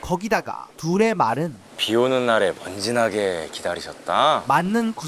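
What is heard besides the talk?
None of the usual background noises is heard.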